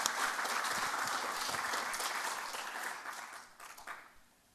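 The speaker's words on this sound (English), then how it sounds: "Let's give these students another round of applause" Sustained applause from an audience at a family stories festival, honouring students, a dense steady patter of many hands that holds for several seconds and then thins out and fades.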